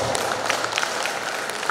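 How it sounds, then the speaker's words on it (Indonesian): Sustained crowd applause at a halal bi halal family association gathering in Soppeng, many hands clapping steadily and evenly at mid distance throughout, with no talk over it. "tepuk tangan dulu sama Pak Prof"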